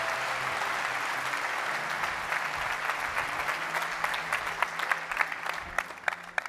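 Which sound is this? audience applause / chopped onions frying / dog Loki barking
audience applause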